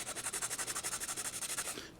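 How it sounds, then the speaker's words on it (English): Rhythmic back-and-forth scraping of a sanding stick over the thin plastic base of a 1/100 scale Estes Saturn V model rocket fairing, about nine quick even strokes, close and alone, tapering off at the end. "use a sanding stick to sand the base of the fairing as flat"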